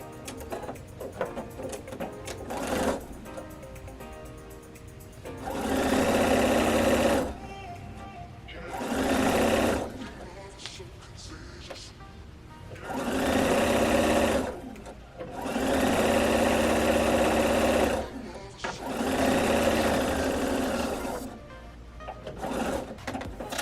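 A sewing machine stitching bag seam pieces runs in several steady bursts of a few seconds each, with someone talking between and over the runs.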